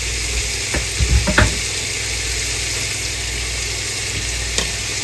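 Chicken sizzles steadily in a hot frying pan, with a few sharp clatters of stirring partway through and another near the end.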